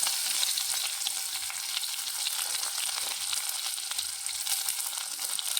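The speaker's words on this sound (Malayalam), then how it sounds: "കുറച്ച് കറിവേപ്പില ഇട്ട് കൊടുക്കാം" Curry leaves, added after dried red chillies, crackle in hot oil in a dense, even hiss with fine popping, close and steady throughout and no one talking.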